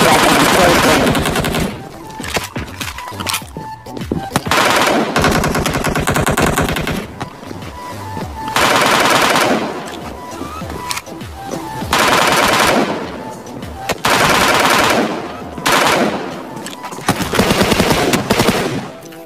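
A fully automatic weapon firing in PUBG Mobile, with long rapid bursts of loud gunfire separated by short pauses and a voice talking between some of the volleys.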